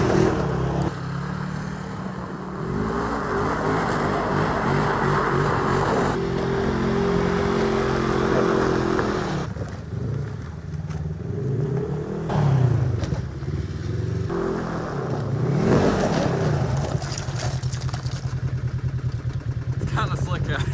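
A RZR side-by-side utility vehicle drives along an icy farm road in winter, its engine droning steadily with rising and falling revs and some clatter, while people talk over it.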